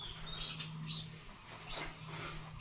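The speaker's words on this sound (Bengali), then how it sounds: "এখানে অনেক পাখি আছে আমার বাড়িতে" Faint, distant bird chirps, a few short high calls scattered over a low background hum, quiet and without talk.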